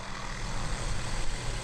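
Helicopter flying over a cattle feedlot, its rotor and engine giving a dense, steady mechanical rumble with a fluttering texture throughout the short stretch.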